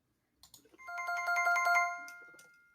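Tinkling bell chime played as a correct-answer sound effect in a quiz, a short bright cascade of ringing tones that rises and fades over about two seconds, heard alone without talk.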